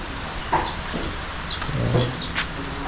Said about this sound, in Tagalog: Yung mga manok natin na maliliit.